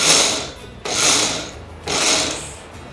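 A kitchen mixer grinder pulsing spice paste with salt added: three short, loud whirring bursts about a second apart, close by, with brief pauses between them.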